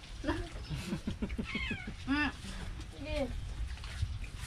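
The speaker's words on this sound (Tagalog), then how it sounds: "Nasaway niya yung pusa." A cat meows repeatedly at a birthday meal, giving several drawn-out, rising and falling cries close by, with people chatting around it.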